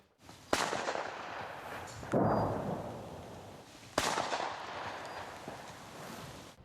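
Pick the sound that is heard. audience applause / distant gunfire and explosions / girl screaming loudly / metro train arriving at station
distant gunfire and explosions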